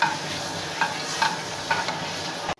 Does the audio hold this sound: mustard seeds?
yes